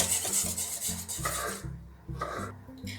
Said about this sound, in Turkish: Şöyle biraz koyuyorum ve tekrar çırpıyorum